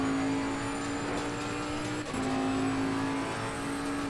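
A GT race car in Assetto Corsa Competizione runs at Bathurst, its engine holding a steady, loud drone with a brief dip in pitch partway through, as if shifting gear.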